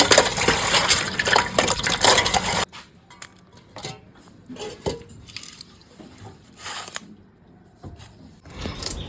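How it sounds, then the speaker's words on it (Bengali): Cleaned field crabs being washed in water: a loud burst of splashing and rushing water at first, then quieter sloshing and clinking of the crabs against a pot or bowl. "ছাড়ানো হয়ে গেছে একটু ভালো করে ধুয়ে নিচ্ছি"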